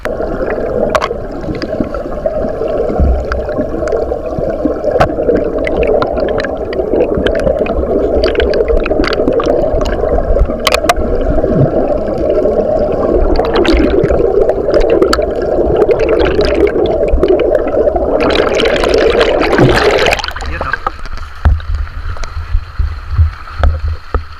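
Steady, loud rushing water flows continuously with gurgling and splashing, occasional sharp knocks, and the noise suddenly drops near the end.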